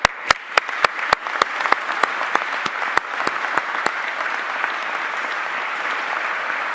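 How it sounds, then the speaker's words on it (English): Audience applause at a plant announcement event, opening with a few loud close claps that quickly merge into sustained dense clapping from a large crowd. "I want to give you a big round of applause"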